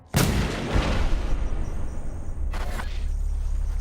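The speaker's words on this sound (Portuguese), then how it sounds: "Felipe é morto com um disparo pela espingarda de Pernambuco." A single shotgun blast from a crime reconstruction bursts out suddenly and loud, its boom echoing and fading, with a second fainter crack later over a background hum.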